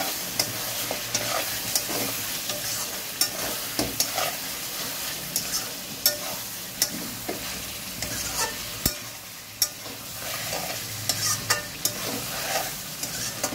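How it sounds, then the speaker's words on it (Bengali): Pre-cooked mutton stirred in a pan for biryani, a steady frying sizzle broken by regular scraping strokes and sharp clacks of the spatula against the pan, close and without voices. "এখন নাড়বো।"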